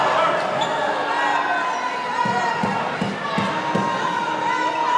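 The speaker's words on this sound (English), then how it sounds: "the crowd very much getting into it" Steady crowd noise fills a men's college basketball gym, rising and murmuring beneath a commentator's voice, with rhythmic ball bounces thudding on the court near the end.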